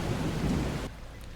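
Rain and thunder in the survival video game The Last Caretaker: a loud, steady rumbling downpour that drops off sharply partway through, leaving softer rain behind.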